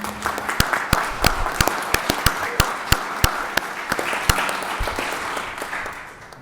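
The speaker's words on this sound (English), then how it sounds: "I think we should give her a round of applause for being the Student of the Year" Scattered, sparse clapping from a small audience at a Georgia state budget hearing honoring a Student of the Year, with individual sharp claps standing out over a soft background before it fades.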